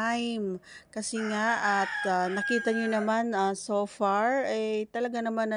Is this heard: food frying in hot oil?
no